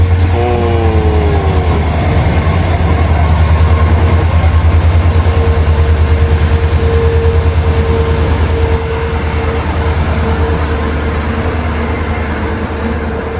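Indian Railways WDP4 diesel locomotive arriving with its train, a loud continuous rumble of engine and rolling wheels with horn-like tones and squeal early on, steady clatter throughout, no talk.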